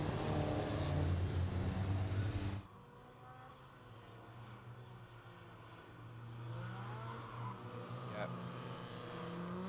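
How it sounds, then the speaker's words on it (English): BMW race cars pulling away onto a formation lap at Anglesey, a loud engine roar that cuts off abruptly, then a steadier, quieter drone of cars moving off in the distance. "The cars then make their way off onto their formation lap"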